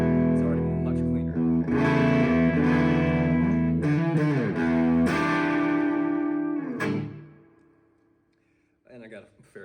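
Electric guitar played through a distortion pedal set just below maximum, sustained gritty chords ringing out with some reverb, then decaying to near silence before a few soft notes return.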